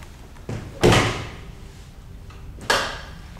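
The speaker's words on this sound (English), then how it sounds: "Is this the door does that?" A heavy door in a Cold War nuclear bunker corridor is opened and shut, giving two loud, reverberant thuds with a faint creak between them, in an otherwise quiet echoing space.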